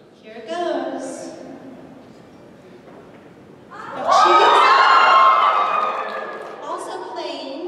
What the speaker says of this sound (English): I want you to scream all loud